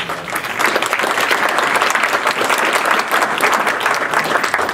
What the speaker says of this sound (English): Maybe you could just give a round of applause to everyone who's been involved in that.